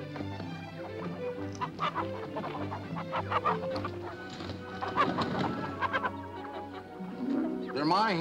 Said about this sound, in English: They're my hens.